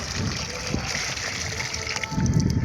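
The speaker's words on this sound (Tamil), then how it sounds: "5 செடிக்குமே தண்ணி ஊற்றி முடிச்சிட்டோம்." Water is poured onto potted plants in a small home garden, a continuous close gushing splash that swells louder near the end, with no talk over it.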